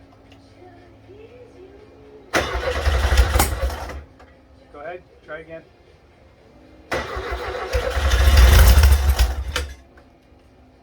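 A freshly rebuilt 1600cc car engine cranks and briefly catches twice, each attempt a loud rumbling burst that dies away, with someone speaking in the pause between them.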